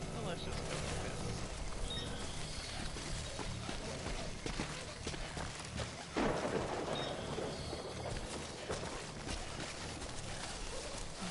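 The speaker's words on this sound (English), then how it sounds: "I'm not a fan of all the lightning and thunder." Steady heavy rain with rolling thunder in the Death Stranding video game, a continuous dense wash of noise and a sharper thunder surge midway, loud and close throughout.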